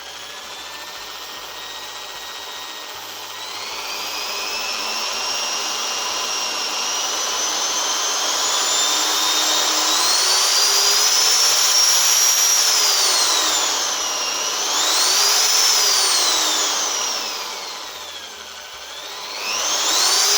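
A Caterpillar DX16 power drill motor whirs up from idle and holds a loud, high whine that climbs and dips as the trigger is eased in and out, briefly sagging near the end before revving again, with no talk.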